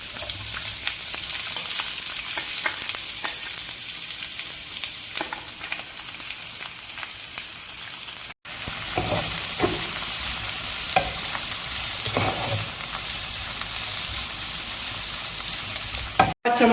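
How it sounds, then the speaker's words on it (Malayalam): Three chopped onions fry in a hot pan with a loud, steady sizzle, broken by scraping stirs and brief clatters, heard alone without talk. "ഇപ്പം നമുക്ക് ചട്ടി ചൂടായി വന്നിട്ടുണ്ട്. സവാള ചേർത്ത് കൊടുക്കാം. 3 സവാള അരിഞ്ഞതാണിത്."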